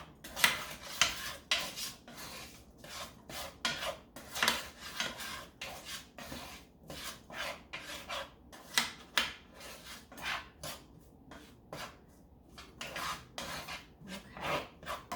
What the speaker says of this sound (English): I'm going to take my spoon and I'm just going to give these a little stir